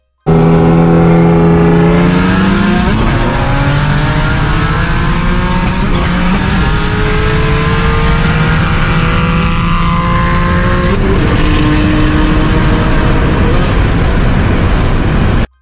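A modified German car races on the street, its engine loud and close throughout, revving hard and climbing through the gears in rising sweeps with brief dips at each shift.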